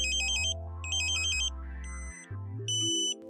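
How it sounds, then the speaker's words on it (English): A satellite dish pointing meter's electronic alert tone warbles in repeated bursts, shifting between pitches, loud and close with no talking. "You hear the ambulance tone again."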